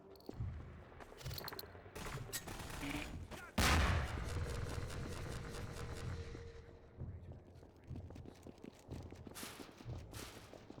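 Gunfire in Half-Life 2, with bursts of rapid shots and a loud blast near the start, then scattered shooting and battle noise continuing throughout at moderate distance.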